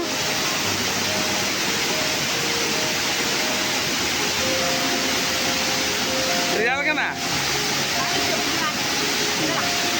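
Steady roaring rush of the Sanaghagara waterfall fills the scene from start to end, loud and close, with a brief voice speaking over it midway.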